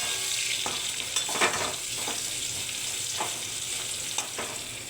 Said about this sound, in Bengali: আদাটা দিয়ে একটু নাড়াচাড়া দিই